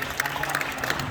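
A church assembly briefly claps for an elder, a short, fairly faint burst of crowd applause with a murmur of voices underneath.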